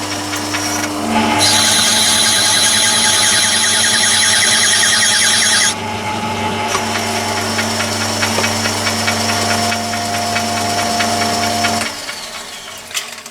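Myford lathe screw-cutting a thread with the half nut engaged, a steady motor hum and mechanical whir running continuously, louder with a bright high whine in the first seconds, then cutting off near the end.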